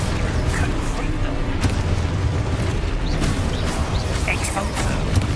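Repeated Confringo blasting-spell explosions in Hogwarts Legacy form a dense, continuous roar of booms and crackling bursts, loud throughout, with a voice over them.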